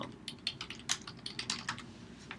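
Rapid typing on a computer keyboard, close and fairly quiet, a quick irregular run of key clicks with no voices.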